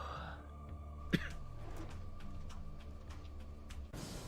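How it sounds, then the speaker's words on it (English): A video game character coughing once, a short sharp throaty burst over quiet game ambience with a low steady hum. "You can hear him. he's coughing."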